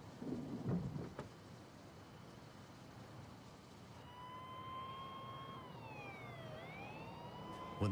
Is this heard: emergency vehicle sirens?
yes